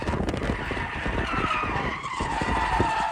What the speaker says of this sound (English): Listen to the squealing tires.